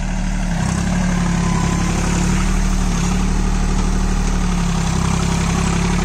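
A Swaraj Target 630 4WD mini tractor engine runs steadily at close range, a loud continuous diesel drone with a strong low hum and no talk over it.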